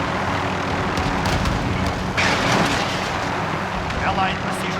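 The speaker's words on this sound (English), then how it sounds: "Helicopter's here." Helicopter rotor and engine noise in a large-scale Modern Warfare ground war battle, a steady loud roar mixed with gunfire, explosions and game announcer voices throughout.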